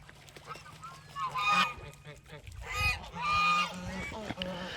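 Geese honking repeatedly at close range, several overlapping calls rising and falling against a low background hum.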